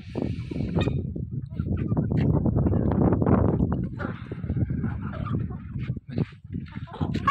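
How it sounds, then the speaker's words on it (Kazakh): Barkovskaya barred hens in a coop cluck and squawk together in a busy, close chorus, with sharp calls standing out over the steady flock noise and voices talking at times. "Мынау бізде Барковская барбистая деген тауықтар."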